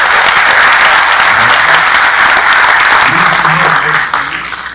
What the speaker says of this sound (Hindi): जोरदार ताली वाली बजा के